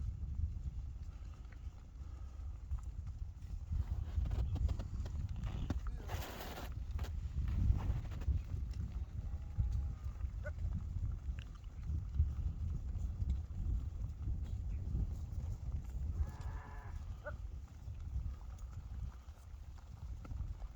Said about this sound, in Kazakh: Тілекжан бауырымыздың қожалығы мал өріске шығып бара жатыр